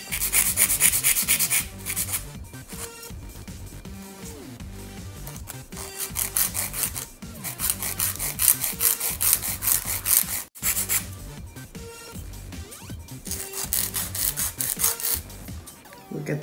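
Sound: filing an acrylic nail into coffin shape

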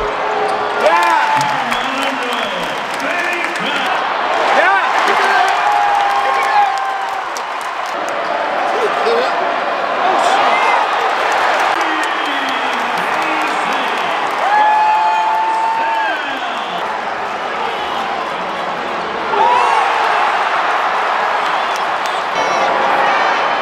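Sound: crowd cheering at NC State vs UNC basketball game

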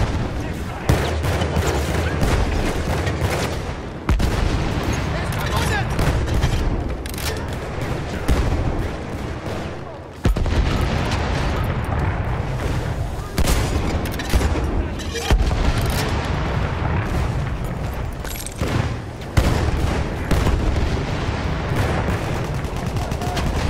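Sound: grenade thrown and exploding in Battlefield 1 video game

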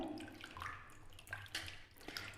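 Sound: washing aloe vera gel leaf in water

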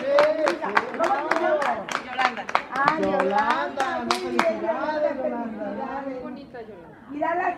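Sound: applause

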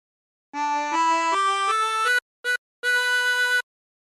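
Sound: chromatic harmonica playing a song phrase

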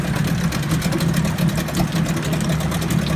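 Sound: Mariner 8 HP outboard motor built by Yamaha idling

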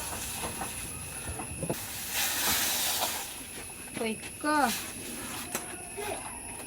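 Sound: sizzling while tempering curry leaves and sambar powder

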